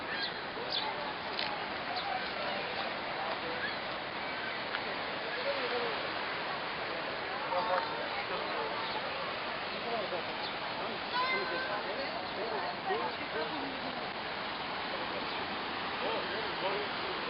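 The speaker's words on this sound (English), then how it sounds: "Horseshoe Falls." Steady broadband roar of Niagara's Horseshoe Falls, continuous and unbroken, with faint seagull calls scattered above the rush.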